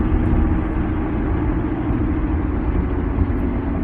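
Car driving to work, a steady loud interior rumble of engine and road noise with no talk.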